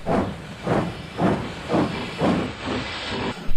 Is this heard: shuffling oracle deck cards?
no